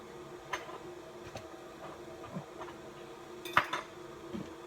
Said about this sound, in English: I'm going to hold on to the spoon and just keep it out because that way I can stir this. I can stir it up.